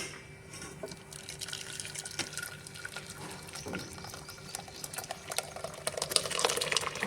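Blended watermelon masala juice trickles and splashes through a strainer, a continuous wet pouring sound with small irregular drips and clinks, close and fairly soft.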